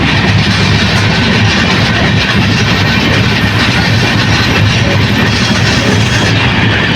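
Steady, loud roar of the Howrah–Jodhpur Superfast passenger train running slowly along the tracks, a dense rumble with rhythmic wheel clatter that never lets up.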